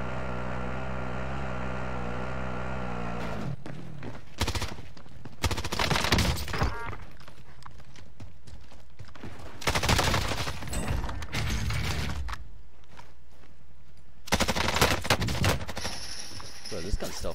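Bruen MK9 gunfire in Warzone, bursts of rapid automatic shots in several short clusters over steady game ambience and music, fairly loud against the background.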